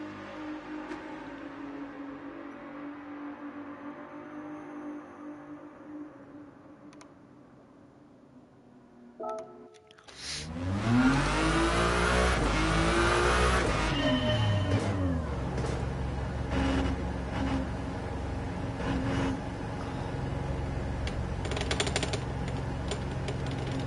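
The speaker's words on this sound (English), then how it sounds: "Het is de Ferrari 499p Hypercar." A Ferrari 499P hypercar races at Le Mans in Gran Turismo 7: quiet, then from about ten seconds a loud, sustained engine roar with rising revs and gear shifts fills the rest of the track, no voices.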